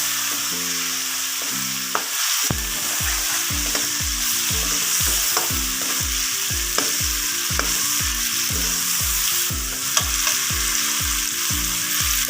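Browned onions and chillies fry loudly for chicken biryani as a spoon stirs them in repeated, regular scraping strokes, all over a constant hissing sizzle, close by with no talking.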